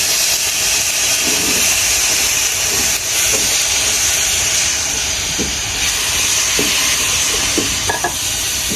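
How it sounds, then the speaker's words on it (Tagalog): Meat sautéing in cooking oil, a loud steady hiss and sizzle with occasional stirring scrapes and light taps of a utensil against the pan. "magagisa na tayo ng karne"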